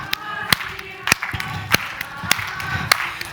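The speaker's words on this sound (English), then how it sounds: "Maybe we want to do a bit of clapping." A group of people claps in unison at an event, sharp claps landing in a steady rhythm about every half second, with voices faintly in the background.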